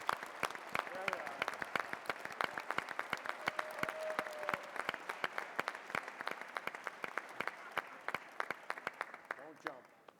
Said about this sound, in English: Give them a huge round of applause for some just great music.